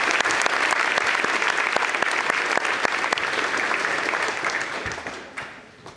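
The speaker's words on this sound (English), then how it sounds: "So yes, let's give him a round of applause." An audience claps throughout at a school's symphonic Christmas concert, dense and sustained for several seconds before tapering off near the end, with a few louder nearby claps and no clear speech.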